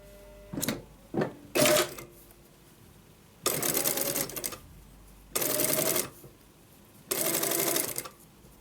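A sewing machine stitches in short bursts after its presser foot is adjusted: three quick clattering runs, then three longer steady runs with pauses between, loud and close, with no talking.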